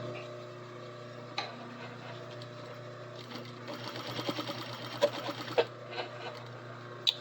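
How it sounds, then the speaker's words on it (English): A sewing machine stitches up a plush toy: a low motor hum at first, then a busy burst of rapid needle clatter and ticking. A few sharp clicks follow as the machine slows. "Okay, so we stitch this up the best we can"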